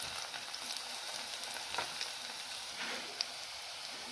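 Tomato sauce poured into a pan of frying gluten-free pasta, giving a steady close sizzle with small crackles and faint stirring, no voices.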